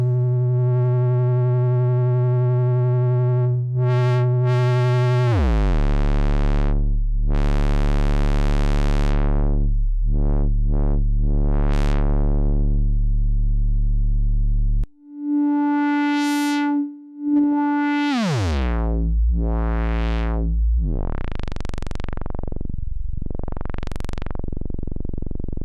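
Filters on a Music Thing Modular Workshop System played in a browser: droning synth tones whose pitch and brightness slide and sweep, with a short break midway before a new tone rises and swoops, steady and loud throughout.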